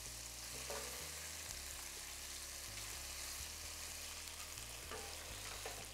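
Salmon sizzles steadily in a frying pan, a close, continuous hiss and crackle of hot oil with no voices, while a low hum runs underneath.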